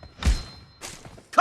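Game audio from PUBG: a deep thud of a headshot impact near the start, followed by a second softer burst and a short bright ringing hit at the end, all brief and close.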